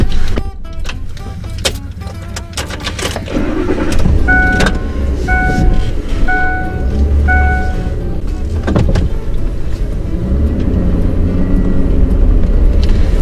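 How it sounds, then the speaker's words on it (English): A truck starts and pulls across a parking lot to another spot at an antique market, with a steady close engine drone, a repeating warning chime and some rattling, with little or no talk. "just gonna park the truck because I'm in the middle of everything here."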